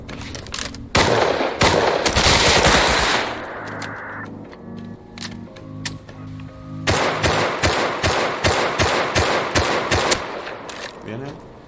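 Rapid automatic gunfire in the survival game Rust, including MP5 bursts, dense loud volleys at the start, a quieter stretch, then a long run of sharp repeated shots, with players talking over it.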